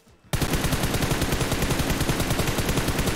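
Rapid automatic gunfire from the mobile battle-royale game PUBG Mobile bursts in after a brief quiet start and then rattles on loudly and continuously in a fast, even rhythm.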